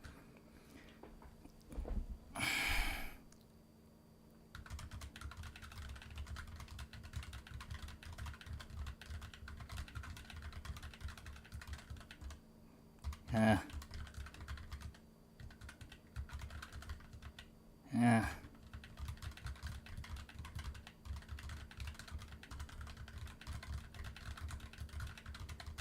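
Fast typing on a computer keyboard, a steady stream of quick clicks at moderate level close by, broken by a few louder thumps, with no voices.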